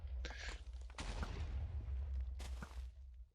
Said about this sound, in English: Get some explosions going in there